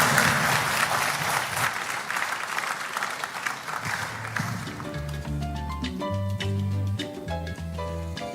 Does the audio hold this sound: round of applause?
yes